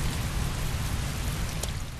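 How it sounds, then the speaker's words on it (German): Steady heavy rain in the video game Heavy Rain, a dense continuous hiss at an even level throughout, with no voices over it. "Heavy rain. It's been the same for weeks."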